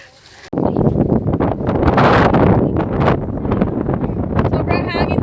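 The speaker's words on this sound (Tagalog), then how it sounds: "Sobrang hangin dito." Strong wind gusts roar across the microphone at a mountain summit, a loud, continuous buffeting that starts abruptly after a brief quiet moment and continues with voices speaking underneath.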